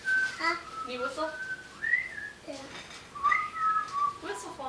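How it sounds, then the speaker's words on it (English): A young boy whistles several short, wavering notes up close, pausing between tries, with breathy rising and falling tones and quiet room noise around them. "Can you whistle?"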